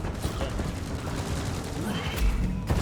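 Sentry turrets firing in the video game Deep Rock Galactic, rapid sustained bursts of gunfire under game noise, fairly loud and close, with a voice faintly present underneath.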